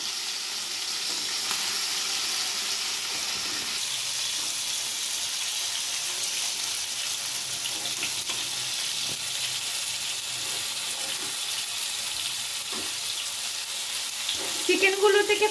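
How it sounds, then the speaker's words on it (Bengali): Chicken pieces fry with chopped garlic in a pan for chicken rice, giving a steady, close, continuous sizzle that grows a little louder near the end. "চিকেনগুলোকে এবার আমি লাল লাল করে ভেজে নেব"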